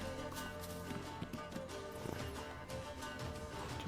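Horse hooves clip-clopping in The Witcher 3: Wild Hunt, a quick running rhythm set low under game music and ambient sound for a few seconds.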